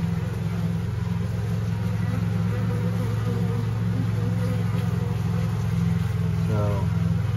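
Honeybees buzz around a hive entrance in a layens hive setup, a steady close drone of many wings with a low engine-like hum underneath.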